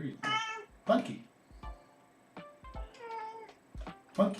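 A house cat meows repeatedly in short, close cries, with a voice speaking between the calls.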